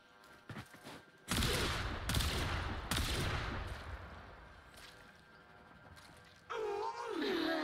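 Bursts of gunfire from a weapon in the game Warframe, several loud, sharp blasts in quick succession with a final burst near the end, sitting over a steady game background.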